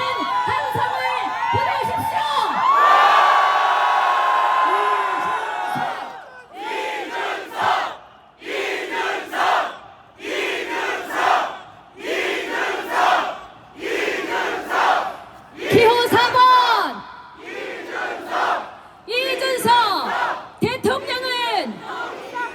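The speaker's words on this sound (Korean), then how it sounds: "더 큰 함성을" A large crowd at an outdoor political rally in Gwanghwamun roaring and chanting in rhythmic waves of shouts, loud and sustained with brief pauses between bursts.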